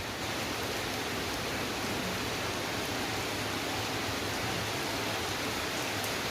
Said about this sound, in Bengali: ভালোই জোরে বৃষ্টি হচ্ছে